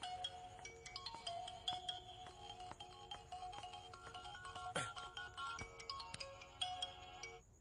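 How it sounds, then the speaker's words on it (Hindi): A bright electronic ringtone plays a repeating melodic pattern of short beeping notes, clear and steady, with a brief rustle partway through. "हाँ फोन बज रहा है तेरा"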